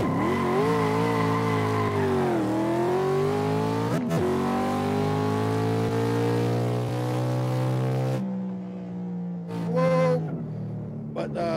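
A car engine in a driving video game revs in third gear, a loud sustained tonal drone that dips and climbs in pitch, with a brief sharp transient partway through and a quieter sputtering tail.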